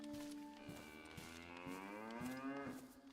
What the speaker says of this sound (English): Hear a cow.